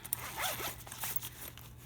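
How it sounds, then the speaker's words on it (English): A zipper on a Lug bag is pulled open in quick, close raspy strokes, with a short sharp tug near the start and faint rustling handling around it. "And then where's the other zipper?"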